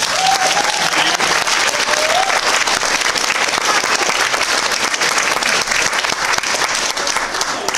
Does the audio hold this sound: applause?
yes